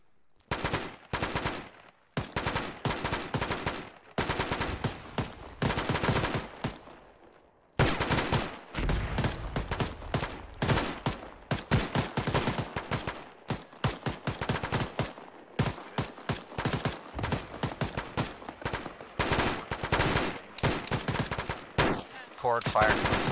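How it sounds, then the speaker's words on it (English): Dense gunfire in the video game Arma, long bursts of automatic fire and single shots crackling almost nonstop, with a short lull and faint voices under the shooting. "Let's light that squad up and then we're gonna start moving out west. Open up on him, JB."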